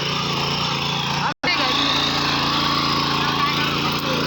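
A small petrol power weeder with a rotor drones loudly and steadily in a cotton field, with a brief cutout near the start before the motor resumes running without pause.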